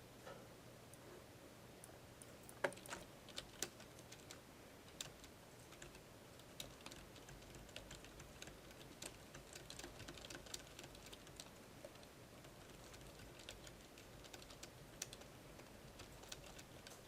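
Steady typing on a computer keyboard while entering values into a C++ program, with quiet, rapid key clicks continuing throughout at a fairly low level with no talking.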